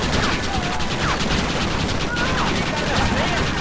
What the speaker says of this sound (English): I like how Mr. Dickens is shooting something too